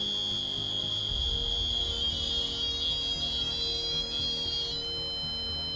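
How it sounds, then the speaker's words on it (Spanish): A piezo buzzer wired to an Arduino sounds a steady, shrill electronic tone whose pitch shifts up and down as the frequency is varied. It plays continuously and prominently with no talking. "Vamos a conectar el zumbador, ¿vale? Y vamos a ir variando."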